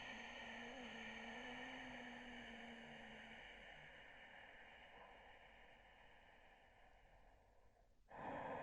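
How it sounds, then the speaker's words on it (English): Slow, steady breathing through a held forward yoga stretch, soft and close with a faint airy hiss continuing for several seconds before a sudden louder shift near the end. "Breathing into the stretch."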